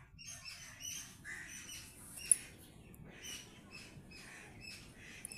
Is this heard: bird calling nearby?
yes